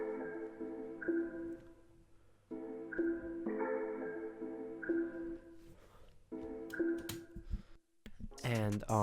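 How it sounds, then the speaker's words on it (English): One-shot sample from the CUBEATZ bank, a layered melodic sound played in repeated phrases with sustained tonal notes, then a bright swelling tail at the end, clear and alone. "And then I added this one shot from CUBEATZ Bank as well."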